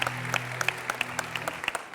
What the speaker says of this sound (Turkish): Bir, bir büyük alkışla Kayahan Usta'ya gitsin buradan